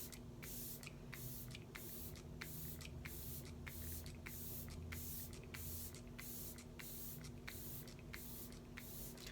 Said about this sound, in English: Now we're gonna spray our face.